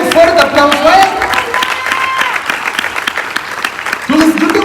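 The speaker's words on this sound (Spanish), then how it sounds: "Que le dé un fuerte aplauso a él." A church congregation claps during a service, a loud dense wash of applause filling the room while a voice speaks over it.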